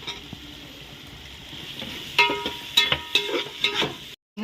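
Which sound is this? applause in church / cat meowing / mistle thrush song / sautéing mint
sautéing mint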